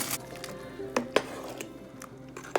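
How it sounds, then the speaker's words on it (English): Frozen fire-roasted corn is tipped into a pot of simmering taco soup, giving a soft rustling pour with several sharp clinks and taps of kitchenware, close by. "I'm going to add the corn."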